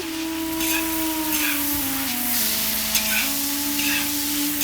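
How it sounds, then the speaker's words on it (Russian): Fresh meat sizzling and crackling steadily in a hot kazan while cooking mastava, with a continuous hiss and a low steady hum underneath. "Слышите, как шипит казан?"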